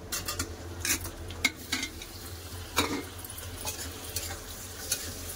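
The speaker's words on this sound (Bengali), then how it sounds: "এবার ভালো করে টমেটোটা ভেজে নেবো।" Chopped tomatoes fry with onions in a pan, salted, for a rohu fish curry with mustard-poppy paste. The sizzle is quiet and close, broken by repeated scraping and clinks of a spatula stirring the mix.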